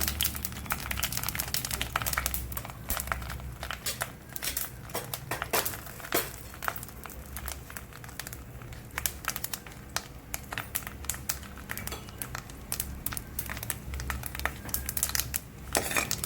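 Mustard seeds, cumin and asafoetida crackle and sizzle in hot oil for a Marathi peanut amti tempering, a dense run of sharp pops and spits, fairly quiet and close with no talk.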